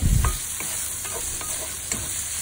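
Garlic and onion sautéing with ground pork sizzle steadily in a pan while a utensil stirs and scrapes in several short strokes, close and fairly loud.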